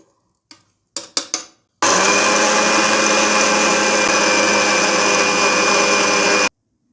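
Mixer grinder grinding idli powder, a few sharp clicks and short pulses first, then a loud continuous high-pitched whirring grind lasting several seconds before it stops abruptly.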